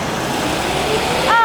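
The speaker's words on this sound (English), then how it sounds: "There's the bus." City bus in Australia pulling up at a stop, a close steady engine rumble ending in a brief brake hiss, with speech over it.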